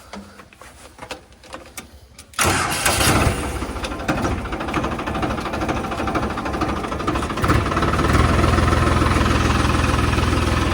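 After a few clicks, a Farmtrac 45 tractor engine suddenly roars to life and runs loudly, its rumble climbing a notch a few seconds later.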